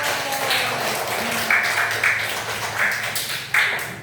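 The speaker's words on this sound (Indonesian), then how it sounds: "Tepuk tangan untuk kita semua" A classroom group of students claps together after a school lesson, a brisk spread of overlapping hand claps with a few sharper, louder bursts standing out near the end.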